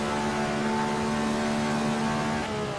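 Ferrari 312/67 racing engine accelerating in the Assetto Corsa racing game, a loud, steady high-revving drone that holds its pitch throughout with no voices.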